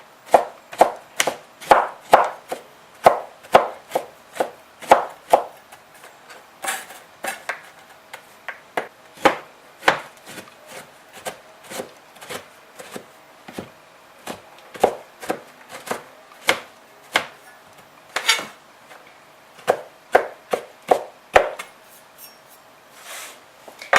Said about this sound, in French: on a notre chocolat haché comme on le souhaitait